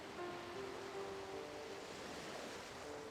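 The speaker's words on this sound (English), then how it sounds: "amidst the roiling waves of the Longtime Sea" Ocean waves roll on the Longtime Sea around a maritime city-state in a Final Fantasy XIV cutscene, a steady soft wash of surf with faint tonal music lines running underneath.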